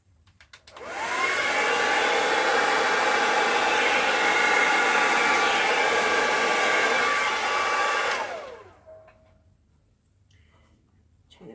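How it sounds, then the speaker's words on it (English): A hair dryer on its cool setting at high speed blows a steady loud whoosh for about seven seconds, used on a Dutch pour acrylic painting, then switches off to quiet room sound. "I'm turning my hairdryer on."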